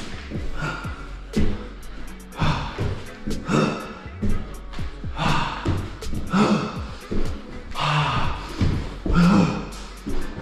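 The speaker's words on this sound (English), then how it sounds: "I'm focused on my breathing" Heavy, rhythmic breathing during a home full-body workout, with sharp gasps and exhalations repeating every second or so, close and loud, with a few grunts and puffs between breaths.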